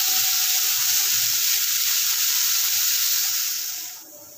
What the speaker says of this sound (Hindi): प्याज को हम अच्छे से भून लेंगे।